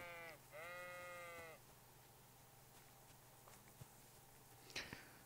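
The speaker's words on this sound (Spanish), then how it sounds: "Mira, ovejas." Sheep bleating in the medieval video game Kingdom Come: Deliverance, one clear drawn-out bleat early on followed by faint footsteps and soft ambient sounds.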